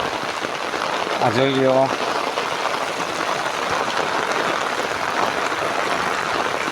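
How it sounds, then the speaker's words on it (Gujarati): Heavy rain pours down in Vadala village, a dense constant hiss close by, with someone speaking briefly near the start. "અમારા વડાળા ગામની અંદર જોરદાર વરસાદ પડ્યો છે"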